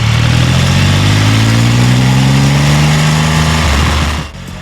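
A Triumph Rocket 3 motorcycle engine pulls hard under steady acceleration, its loud, close roar climbing smoothly in pitch for several seconds before the throttle eases off near the end.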